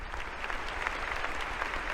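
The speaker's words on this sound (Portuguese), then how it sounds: "damos um aplauso a eles" A large crowd at a Bible study gathering in Bogotá, Colombia, applauds the event's logistics organizers with dense, steady clapping throughout, fairly distant and moderately quiet.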